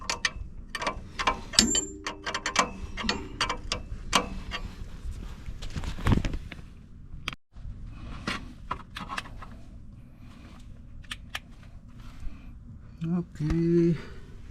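A hand ratchet tightens the upper control arm bolt on a 2014 Ford F150 5.0L, repeated clicking bursts close by, with a brief pause midway and some background talk.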